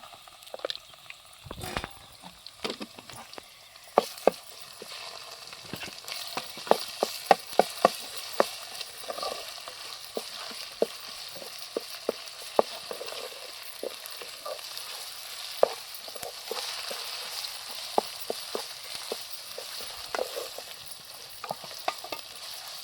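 Ginger hits hot ghee for a village-style fish curry, crackling and spitting loudly up close with sharp irregular pops over a continuous sizzle, stirred now and then, no talking.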